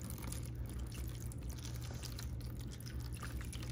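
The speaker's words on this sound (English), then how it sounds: "Just gonna put some RO water in here." Reverse-osmosis water poured into a small dish for a black-breasted leaf turtle, a soft continuous trickle over a steady low hum, quiet and close.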